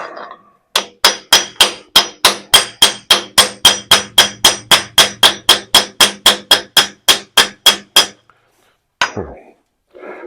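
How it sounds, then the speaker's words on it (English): A hammer drives an aluminum drift against a seized compound slide, about twenty-two sharp ringing metallic blows in a fast even rhythm, loud and close, then a pause and one final strike. "I can drive on that with my aluminum and my hammer and try to get this apart."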